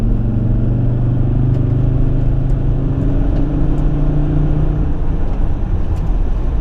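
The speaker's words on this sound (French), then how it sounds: "petite accélération pour vous faire plaisir" A 2005 Volvo XC70 2.4 D5 diesel with an automatic gearbox accelerates on the road. The engine drone is loud and steady from inside the car, the pitch climbs gently as it pulls, and nobody speaks.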